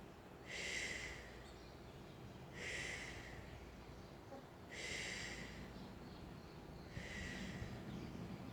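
Four forceful exhales blown out at a steady pace during a yoga stretching exercise, each a breathy burst a couple of seconds apart, close and fairly quiet over a low background hum.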